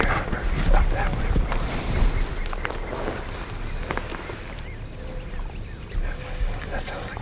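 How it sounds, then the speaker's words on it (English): Wild turkeys gobbling in the distance, faint rattling calls carrying across open ground beneath nearby hushed voices and rustling, with a few scattered bursts rather than a steady chorus. "That sounds like a different group of birds."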